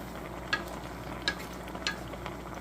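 Thịt kho, Vietnamese braised pork, being stirred in a pot while it sizzles steadily, with three brief scraping clinks of the utensil spaced about a second apart over the low bubbling.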